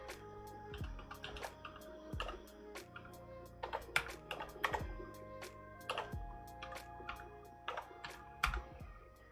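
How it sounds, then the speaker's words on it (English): Password being typed on a mechanical keyboard with TECSEE Sapphire switches, a steady run of crisp, clicky keystrokes in uneven bursts, close and fairly quiet, with no talking. "I want to type in my password"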